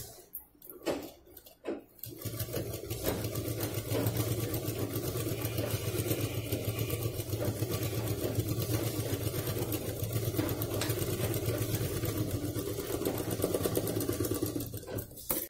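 A sewing machine runs steadily, stitching the bottom seam of a fabric school pouch, with a loud continuous mechanical whir after a brief start-up.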